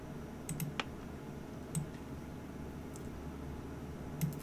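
Computer mouse clicks while working in 3ds Max: a handful of sharp, isolated clicks spaced irregularly over a faint steady background hiss, close and quiet, with no talking.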